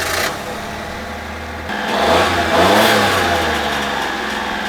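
A tiny Japanese 6x6 fire truck with under 2,000 miles fires up, its small engine catching and then revving in rising, buzzy surges close by, settling into a steady higher idle.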